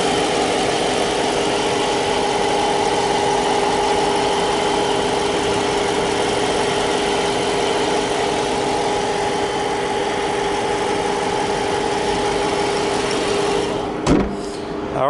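A 2015 Dodge Charger R/T's 5.7-liter V8 Hemi idles steadily at close range, a constant low rumble with a brief louder blip near the end.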